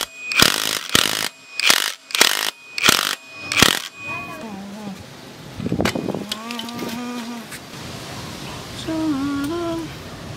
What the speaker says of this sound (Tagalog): Siyempre yung extension niya para maikabit natin sa impact wrench.